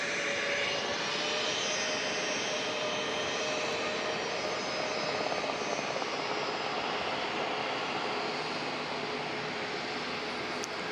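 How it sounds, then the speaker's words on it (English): United Boeing 737 MAX 8 jet departing San Diego International Airport, a sustained broad engine roar heard from a distance that holds steady throughout. "Next departure, United 285 to San Francisco on a 737 MAX 8."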